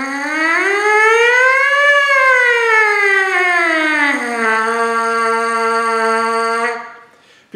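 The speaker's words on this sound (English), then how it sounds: "It's going to do the same thing as we ascend on our glissando siren." A single sustained brassy buzz played on a brass mouthpiece alone, sliding smoothly up and then down in pitch like a siren, settling on a lower held note before cutting off.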